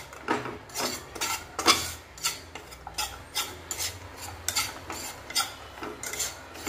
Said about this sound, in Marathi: बंद केलेल्या गॅसवरचे बेसन भाजून घ्यायचं